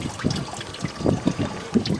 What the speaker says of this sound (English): Once you get it to break free, it'll antifreeze and start draining out